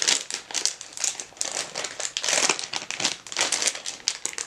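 A heat pack packet for shipping a leopard gecko is torn open: continuous loud, close crinkling and rustling of the packaging with rapid irregular crackles throughout.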